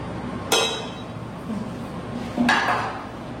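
Two sharp clinks of dishes sound close by as rice is served at a home family meal, each strike ringing briefly against a quiet kitchen background.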